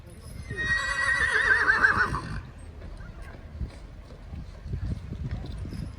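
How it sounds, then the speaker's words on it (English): A horse pulling a horse-drawn tour carriage gives a loud, close whinny, then its hooves keep up a soft, steady clip-clop in the background. "They had these horse-drawn carriages that they would give tours on"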